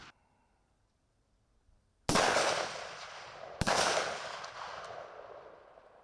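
Two sharp, loud gunshot cracks from new-issue submachine guns at a military weapons training range, each followed by a long fading echo, with near silence before them and no talk.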